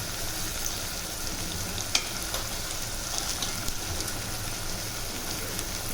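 Steady crackling sizzle of asafoetida and turmeric frying in hot oil, continuous and close, with a few sharper pops and no talking.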